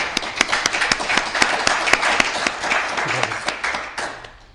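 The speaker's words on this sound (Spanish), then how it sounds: "yo os pido un pequeño aplauso de bienvenida en esta sala un poco fría" A small welcoming round of applause from a lecture audience in a chilly hall, with scattered hand claps rising over a steady clatter and fading out toward the end.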